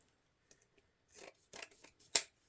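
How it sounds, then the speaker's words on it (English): Scissors snip through ribbon tails at an angle while a welcome wreath is being made, a few quiet clicks and then several crisp, close cuts, the last one loudest, with no talk. "I'm just going to cut it at an angle."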